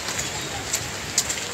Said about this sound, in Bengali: আর এখন তো আবার বৃষ্টি শুরু হয়ে গেল।